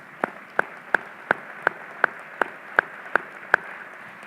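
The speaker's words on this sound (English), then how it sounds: "How about a round of applause?" A single pair of hands claps in a steady, evenly spaced rhythm, about ten crisp claps over a few seconds, at a state-of-the-system address for a community and technical college system, sounding close and fairly quiet with no talking.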